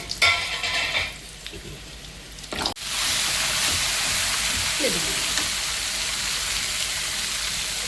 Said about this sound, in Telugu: ఆయిల్ పెట్టేసుకుని 4 ఎండుమిరకాయలు వేస్తాను